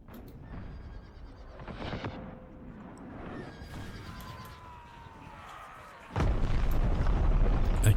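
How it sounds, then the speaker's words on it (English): Artillery guns firing cannon in Empire: Total War, scattered distant booms over a battlefield din, building to a heavy close roar of fire near the end. "I don't know that all the guns are firing."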